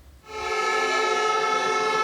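A loud, sustained air horn blares from silence at a miners' protest in Warsaw, holding a steady, harmonic-rich tone close by.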